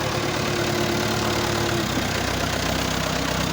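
Tractor engine running steadily while lifting a truck onto a moving truck, a continuous droning rumble with a constant hum and no break, alone without talk.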